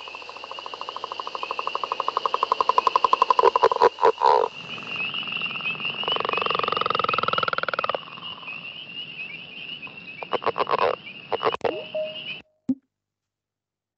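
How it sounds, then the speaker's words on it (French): A spring peeper frog call played back as a recording: dense, high chorus-like peeping and trilling with pauses and a few bursts, fairly loud and steady, ending abruptly with no voices. "C'est la rainette crucifère"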